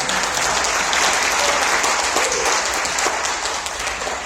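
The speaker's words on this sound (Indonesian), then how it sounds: "Tepuk tangan buat Indonesia" A large crowd at a regional fellowship gathering in Jakarta breaks into sustained, loud applause, a dense wash of clapping that stays strong throughout.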